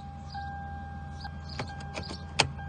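A car key for a 2004 Lexus LS 430 slides into the ignition with a soft jangle of keys and a few crisp metallic clicks, the sharpest near the end, heard close up over a low hum.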